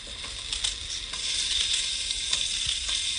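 Onions frying in oil in a pan, a dense steady close-up sizzle with faint scraping and light knocks scattered through it, no voices.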